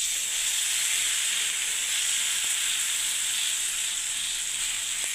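Curd and semolina pitha with onion and tomato fry on a low gas flame, giving a steady, even sizzle and hiss that holds without a break and without any voices.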